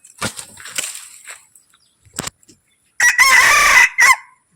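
A jungle fowl rooster crows loudly and close in a forest setting, following scattered rustling and clucking noises; the crow comes as one long call with a short tail.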